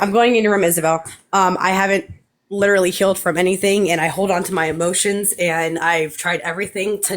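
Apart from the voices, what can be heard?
None of the usual background noises is heard.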